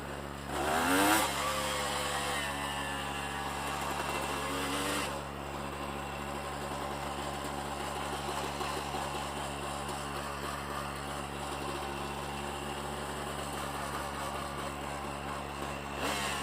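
A Honda CRM 250 AR two-stroke motorcycle engine runs steadily with a sharp rev burst near the start, then settles into a continuous buzzing drone that stays close and fairly loud to the end.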